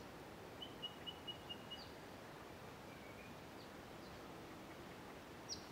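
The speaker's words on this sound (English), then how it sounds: "you could probably count 15 to 20 different birds just from the noises that you can hear" Birds at a wetland hide in the Riverland give faint, sparse chirps and short calls over quiet background hiss, with a brief series of tweets early and scattered single notes later.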